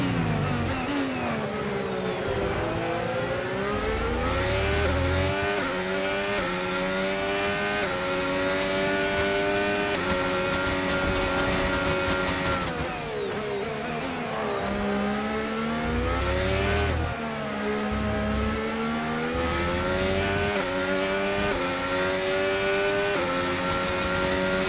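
A Formula 1 race car engine in the F1 25 video game screams loud and near, revving up and down through repeated gear shifts and sweeping pitch changes, with no voices over it.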